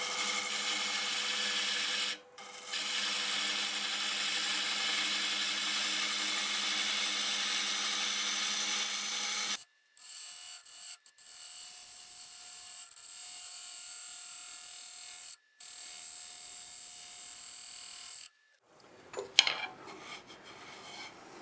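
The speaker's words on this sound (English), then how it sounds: "I pulled the tailstock back so I could see if I could get a cleaning cut this way" Wood lathe spinning a tangent stave turning while a tool makes a cleaning cut, a steady close whir broken by short pauses, quieter in the second half, ending with a brief scrape and clatter, no talking.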